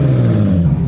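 Volkswagen Caddy van fitted with an R32 engine and no exhaust, revving loud and close, a dense, raw low-pitched roar held steady through the moment.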